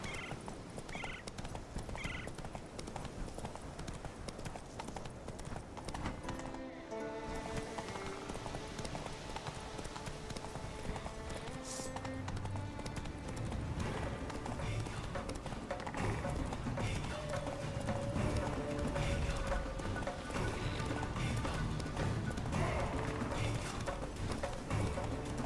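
Horse hooves clip-clopping steadily in The Witcher 3 video game, with an occasional whinny, under a continuous bed of orchestral game music and ambience.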